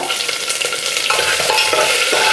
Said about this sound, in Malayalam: എന്നിട്ട് നന്നായിട്ടൊന്ന് വഴറ്റിയെടുക്കുക